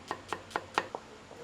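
Knife chopping onions thinly on a board, five crisp close strikes at an even pace, then a faint sixth, with no one talking.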